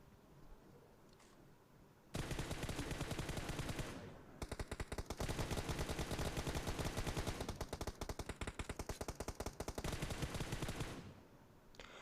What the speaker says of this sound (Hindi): मैं भी अंधी गोलियाँ चला रहा हूँ और ये सामने वाला भाई भी अंधी गोलियाँ चला रहा है